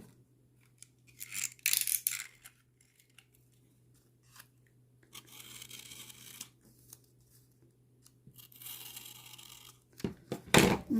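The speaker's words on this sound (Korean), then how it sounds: "반으로 접고 한 번 더 접어서 4분의 1로 잘라줍니다" Scissors cut folded paper into quarters for an origami black dragon, producing several close, crisp snipping and rustling bursts separated by quiet pauses, with paper handling at the end.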